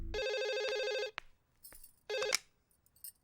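A telephone rings indoors with bright, electronic tonal bursts: one long ring, a pause, then a second shorter ring, loud and alone without speech.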